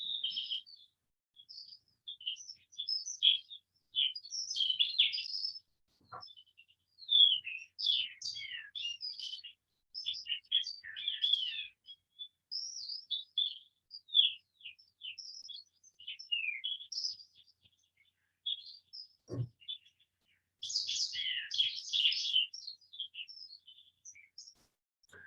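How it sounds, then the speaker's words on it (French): A recorded Eurasian skylark song plays as a long, continuous run of rapid high twittering and trilled phrases with only brief pauses. A couple of faint low thumps sound in the background. "Un chant d'Alouette des champs, ou plutôt exactement un extrait de chant."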